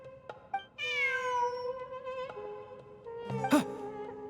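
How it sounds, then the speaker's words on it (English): A cat in the game Genshin Impact lets out a clear, drawn-out meow, close and prominent, with a few soft clicks and small effect sounds around it. "Look! A cat!"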